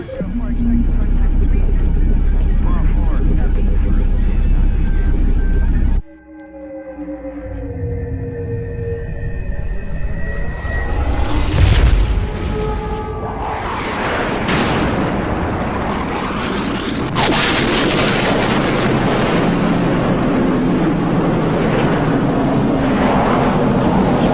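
Spacecraft thrusters firing for a deorbit burn before landing, heard as a heavy low rumble that cuts out, then descending electronic tones and a sustained broad roar that swells and holds steady.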